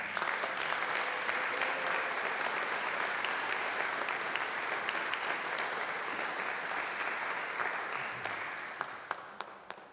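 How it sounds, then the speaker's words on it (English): Honors convocation crowd in the Chapel of Mercy at Mount Mercy University applauds its honored students, a sustained, evenly packed patter of many hands heard at a moderate distance, fairly soft, lasting the whole time without speech. "Can we give them all a round of applause?"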